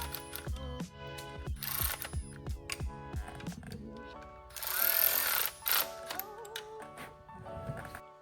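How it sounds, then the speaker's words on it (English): A 1/4-inch ratchet drives bolts into tapped holes during a 6.0 Powerstroke engine long block build, giving rapid close clicking bursts mixed with metallic workshop clatter and ringing tones, with no talking. "Didn't even bind up the 1/4-inch ratchet."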